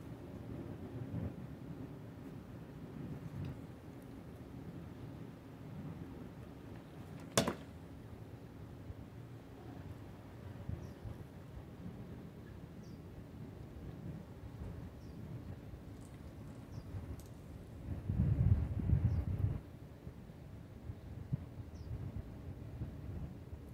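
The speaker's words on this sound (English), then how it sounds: "A little windy." Steady outdoor wind buffeting with low rumbling gusts throughout, swelling into a louder blast near the end; no voices.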